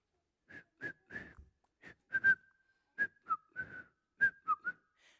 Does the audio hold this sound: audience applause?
no